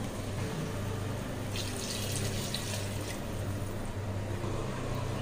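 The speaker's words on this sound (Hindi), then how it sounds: "अब हम इसमें पानी ऐड कर देंगे।" Water is poured into a pan of roasted rice while making spinach khichdi, giving a steady rushing, splashing noise over a low kitchen hum, moderately loud and continuous.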